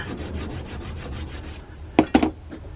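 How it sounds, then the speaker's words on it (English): Polishing compound rubbed onto a polishing block, a steady close scraping rub for about a second and a half, followed by two short, louder rubbing strokes near the end. "Get your Smurf poo, your polishing block, get a good load of it on there like that."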